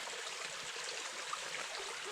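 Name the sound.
stream of fresh water running over rocks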